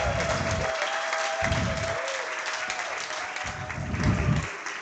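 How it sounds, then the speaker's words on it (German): Audience applause at a prompt battle event, a steady burst of clapping that carries on for several seconds and swells slightly toward the end. "Also dann jetzt der Applaus"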